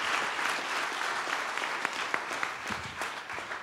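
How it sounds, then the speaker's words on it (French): An audience applauds the three participants in a project pitch contest at a community gathering, a steady wash of many hands clapping throughout, fairly loud, with no voices over it. "Une bonne main d'applaudissement pour les 3 participants au concours."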